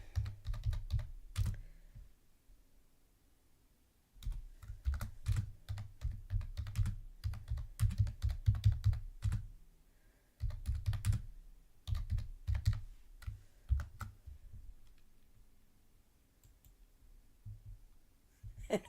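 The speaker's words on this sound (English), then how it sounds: "It takes me a bit to type and stuff." Typing on a computer keyboard at close range, irregular runs of rapid key clicks broken by several pauses, with quiet gaps between bursts.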